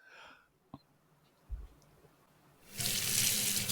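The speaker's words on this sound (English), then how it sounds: "That's the rinse. That is the rinse. That was you rinsing it off." Running water from a tap gushes into a sink, starting after a few faint knocks and thumps and continuing as a loud, steady rush to the end.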